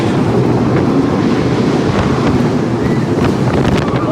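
Riding the Montezooma: The Forbidden Fortress roller coaster at Knott's brings a loud, unbroken rush of wind buffeting the microphone, close and roaring throughout.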